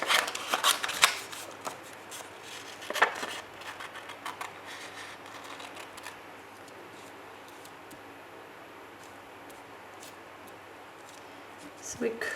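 Scissors snip through paper while cutting out a recycled paper craft fairy, with a quick cluster of close, crisp cuts early on, scattered snips after, then a long quieter stretch of soft rustling.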